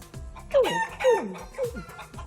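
A man mimics a chick with his voice, giving a few short rising squeaky chirps in a quick rhythm, close and fairly loud.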